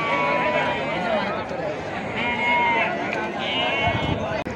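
Sheep lambs bleating at a livestock market in Amingad, Bagalkot district, Karnataka, a constant crowd of overlapping bleats near and far, with people talking underneath.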